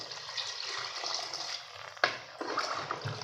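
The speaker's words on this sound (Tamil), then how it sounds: "இப்போ தேவையான அளவுக்கு நம்ம தண்ணி ஊற்றிக்கலாம்." Water used to rinse a mixer pours steadily into a pot of chicken kozhambu with a hissing, splashing rush, and a soft knock partway through.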